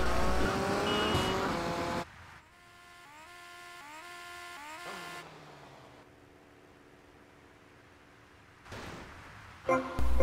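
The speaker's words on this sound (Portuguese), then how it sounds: "Vou precisar dessa moto rápida para rampar por cima do telhado de um lugar ali." A motorcycle engine in GTA Vice City revs in stepped, rising tones, then settles into a steady drone before louder bursts return at the end.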